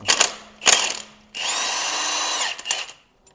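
A power tool spins off the crankshaft bolt on a 2003 Saturn Vue's GM 2.2 Ecotec engine during timing chain work: short sharp bursts of the tool, then a steady whine for about a second, then a few quick pulses, close and loud.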